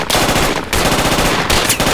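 Sustained machine gun suppressive fire in the Project Reality military shooter game, a loud, dense rapid stream of automatic shots with one brief break before the burst resumes.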